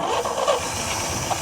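A 1963 GMC V6, sitting for over thirty years and with a plugged exhaust, runs in a brief, rough, close burst with a muffled, noisy tone.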